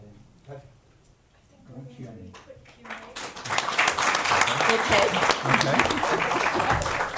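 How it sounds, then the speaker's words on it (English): A crowd at an artificial intelligence summit panel in London applauds the panelists, rising into sustained, even clapping after a few seconds of a person speaking over the hall. "Please, let's give a big round of applause to my panelists."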